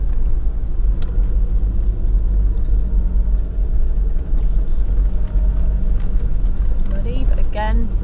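A car drives along a gravel forest road, a constant heavy rumble of tyres and engine up close, with a few sharp ticks and a short rising squeak near the end.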